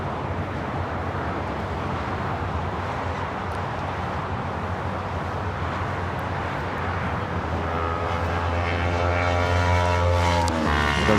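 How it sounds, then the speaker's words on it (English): A Boeing 757 sports charter jet takes off from LAX bound for San Diego, its engines a steady, powerful roar that swells and grows louder toward the end, with no talk over it. "There's that 757 heading to San Diego, sports charter. Like a rocket."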